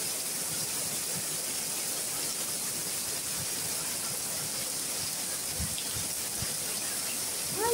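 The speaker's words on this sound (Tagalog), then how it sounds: "Lakas ng ulan, basa na ako." Heavy rain pours down outdoors, a constant soft hiss of falling water that stays even throughout, with a few faint low knocks and no speech.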